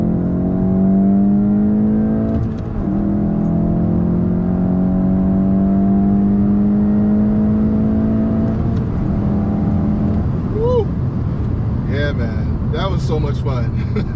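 A 2024 Volkswagen GTI 380 Edition engine rises steadily in pitch under acceleration, then drops with a downshift and climbs again, loud and close from inside the cabin, with a voice briefly speaking near the end.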